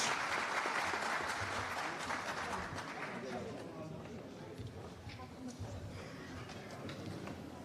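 A crowd at a party congress applauds in a dense, continuous wash of clapping that stays fairly steady and eases slightly toward the end, heard from within the hall.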